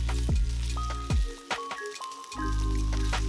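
Beef hits hot oil with a teaspoon of garlic and ginger paste in a stir-fry pan, bursting into a loud steady sizzle with a few stirring scrapes.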